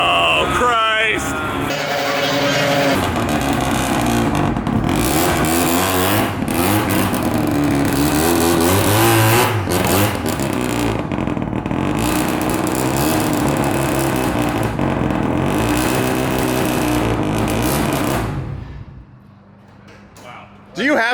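Loud, continuous engine roar from a 500-horsepower naturally aspirated Honda-powered drag car, revving and accelerating with a rising, sustained drone for most of the span before dropping away abruptly near the end; voices talk over it.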